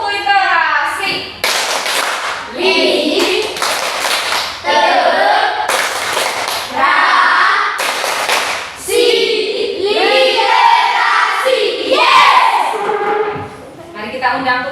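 A classroom group performs the rhythmic clapping routine called tepuk literasi, with sharp bursts of unison claps separated by chanted phrases from the group, loud and close, repeating in a patterned rhythm.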